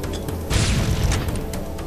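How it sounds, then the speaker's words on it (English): Frag grenade and rocket explosions in the video game Halo, a loud, booming blast that swells midway over continuous game noise, ending in a short burst. "you throw a frag grenade, and then you'll run up and put a rocket under on your feet"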